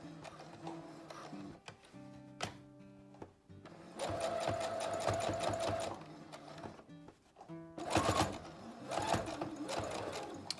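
Sewing machine running a straight seam on a cloth face mask with wire, bursts of rapid mechanical stitching that start, stop and restart, close and fairly loud, with no speech.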